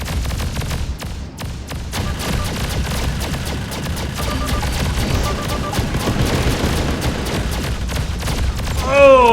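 Rapid, continuous space-combat gunfire in the game Freelancer, a dense stream of sharp shots and booms over a low engine drone, steady and loud with no clear talk.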